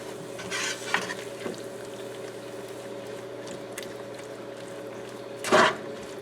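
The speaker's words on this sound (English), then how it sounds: "now we're just adding the zucchini noodles. Trying to get everything mixed in." Zucchini noodles stirred into a pan of cooked shrimp and snow crab, a soft sizzle under scattered scrapes and clanks of the spoon, with a louder scrape near the end over a steady low hum.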